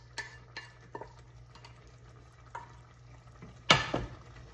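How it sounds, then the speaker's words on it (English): Stir-fried beef and vegetables being stirred in a pan, a few soft scraping and clinking strokes spaced apart, then one louder burst of sizzling near the end, close by with no talking. "Stir this around."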